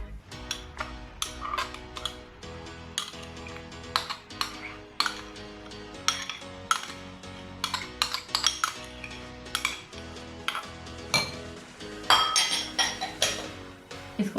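A spoon stirs chicken sandwich filling with mayonnaise, black pepper and salt in a bowl, giving steady, close clinks and scrapes of metal against the dish in an uneven rhythm over about fourteen seconds, with no talking.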